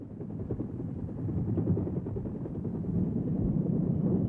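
A Vietnam War-era Huey utility helicopter, armed as an attack gunship, thumps steadily with rotor beat at moderate distance, growing slightly louder midway and continuing alone without speech.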